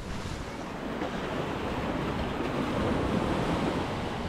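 Ocean waves breaking on the beach at Playa del Carmen, a steady, loud wash of surf with wind noise across the microphone, continuous and close, no voices.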